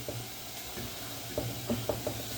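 Onion fries in Egyptian ghee in a pan, giving a steady soft sizzle and hiss with a few brief stirring clicks and spatters near the end.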